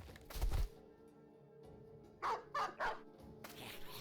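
Several short barks from war dogs in the video game Battle Brothers, a loud burst early and then three quick yaps close together, set against a faint, steady battle ambience.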